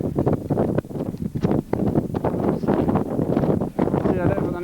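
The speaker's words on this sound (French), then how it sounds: "Le vent me fracasse." Strong wind buffets a microphone on the Rochefort ridges in the Alps, loud gusty roaring and flapping that comes in bursts with brief lulls, close and overwhelming.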